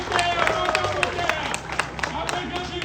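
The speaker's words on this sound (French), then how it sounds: "Sous vos applaudissements." Audience applause at a civic ceremony introducing a commission member, sparse scattered claps from a crowd over a murmur of voices, sharp individual hand strikes standing out.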